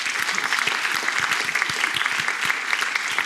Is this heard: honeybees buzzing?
no